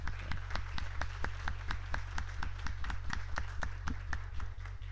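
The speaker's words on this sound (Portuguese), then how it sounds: "Muito obrigado, Cláudio, por aplaudir o general." Audience applauding a general at a formal ceremonial session, a regular patter of claps at moderate loudness over a strong constant low electrical hum.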